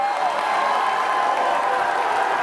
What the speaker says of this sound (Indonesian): silahkan kalau dari para pendukung pasangan calon kita boleh tepuk tangan